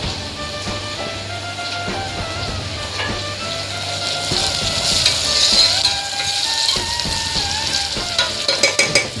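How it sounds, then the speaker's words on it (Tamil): Onions frying until brown in a pressure cooker for mutton gravy, a steady loud sizzle with stirring scrapes, growing busier and louder toward the end, with no talk. "ஸோ என்றைக்குமே நம்ம வந்து ஆனியனை வந்து கொஞ்சம் நல்லா ப்ரௌனாக ஃப்ரை பண்ண விடணும்"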